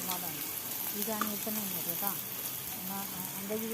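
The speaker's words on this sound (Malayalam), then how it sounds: "ഒരു വലിയ സവോള അരിഞ്ഞത് ചേർത്ത് കൊടുക്കുക ചെറുതായി അരിഞ്ഞതാണ് ഒന്ന് ഇളക്കി കൊടുത്ത്" Finely chopped onion frying in a pan for a cluster bean thoran, a soft steady sizzle under light stirring scrapes, with faint voices in the background.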